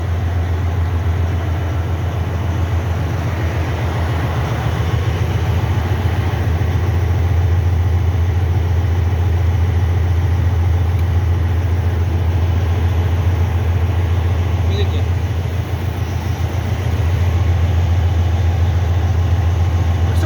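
A 2004 car engine idles steadily on its first start after repair, with a low, even rumble that holds constant throughout, close by and loud, with no talking.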